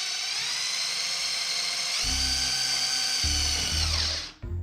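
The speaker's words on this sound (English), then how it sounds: "I'm just gonna take this small drill bit and I'm just gonna drill a little hole right there." A small drill bit bores a pilot hole in a plate-light mount on a Can-Am Ryker, a steady high electric whine that strains lower as the bit bites, then spins down.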